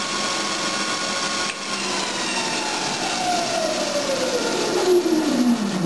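A home-made wood lathe spins up toward 4,000 RPM, its loud close whine rising steadily in pitch over several seconds above a constant mechanical hum.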